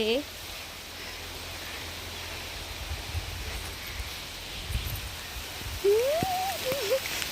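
Rain comes down steadily outdoors on a home vegetable garden with green shade netting, a soft, even hiss of drops throughout, with a few brief rising whistle-like tones near the end.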